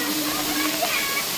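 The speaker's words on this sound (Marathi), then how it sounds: "इथूनच मित्रांनो पाणी खाली चाललंय" A small hillside waterfall in monsoon rain, water pouring down and filling an area to one side, makes a steady, close broadband rush with no pauses, and faint voice traces sit underneath.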